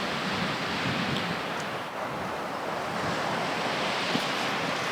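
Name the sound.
waves breaking on Baltic Sea beach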